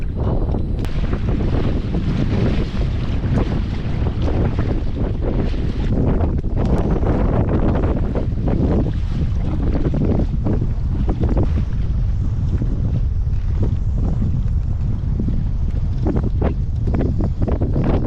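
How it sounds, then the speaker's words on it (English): Steady wind roars across the open water of Melvern Lake, Kansas, buffeting a bass fishing boat during a tournament, with loud microphone buffeting and a dense, continuous rush throughout, no voices. "As you can see, it's quite windy."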